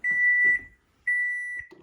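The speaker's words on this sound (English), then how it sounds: "Timer." Two long, clear electronic beeps from an oven timer, evenly spaced and loud, each holding a steady tone with faint kitchen noise around them.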